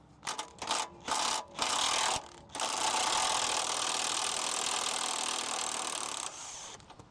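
A wrench works an 18 mm nut and bolt off a GM exhaust mid pipe, starting with short, choppy bursts of metallic ratcheting and rubbing, then settling into a long continuous grinding whir close by.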